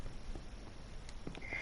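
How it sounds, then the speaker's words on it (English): Faint, soft sniffles from a dog over a quiet background hiss, a few brief nasal breaths close by. "You got the sniffles"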